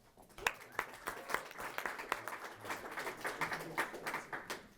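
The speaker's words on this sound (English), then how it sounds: "So applause." Scattered applause from a small audience at an investor pitch event, fairly faint, with individual claps standing out in an uneven patter and some low murmuring underneath.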